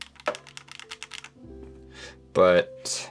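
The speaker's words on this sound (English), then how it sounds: "now that I'm putting the keycaps on" Keycaps are pressed onto a Minimi40 mechanical keyboard, giving a burst of light plastic clicks and taps, followed by a few louder rustling handling sounds.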